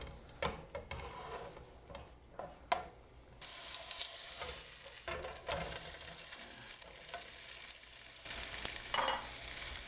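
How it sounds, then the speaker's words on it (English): Sausage frying in a pan, starting with faint sporadic taps and knocks, then a clearer crackling sizzle that swells and fades in uneven bursts, moderately quiet and with no voices. "That way it can start cooking and all the oils that are already in the sausage get released"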